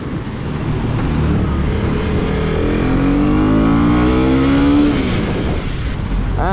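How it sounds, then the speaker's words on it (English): Husqvarna Vitpilen 250 motorcycle with a single-cylinder LC4C 250cc engine, loud and close, revving steadily upward in a smooth climbing whine before dropping back to idle. "this is a new LC4C 250cc engine"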